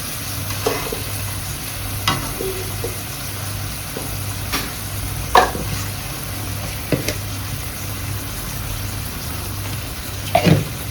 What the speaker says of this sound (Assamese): নিমখ হালধি দি ইয়াক মই পূৰা ভাজি থাকিম